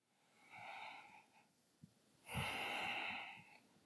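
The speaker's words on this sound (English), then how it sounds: "Take a deep breath in" An audience at a float center conference draws a deep breath in, a soft breathy inhale followed after a pause by a louder, fuller rush of air.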